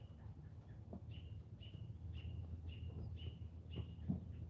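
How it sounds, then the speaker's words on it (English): A noisy bird near a horse shelter calls in a repeated series of short, evenly spaced high chirps, moderately close over a low rumbling outdoor background. "There's some super noisy bird in there."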